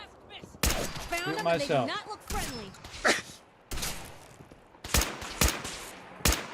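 In Fallout 4, a player lines up a VATS headshot and fires several sharp, loud gunshots in quick bursts. A voice speaks briefly just before the shots.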